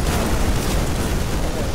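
A loud, dense blast of explosive noise, broadband and sustained for a moment, like a grenade going off close by in StarCraft 2.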